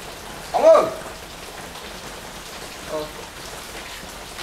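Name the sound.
rain falling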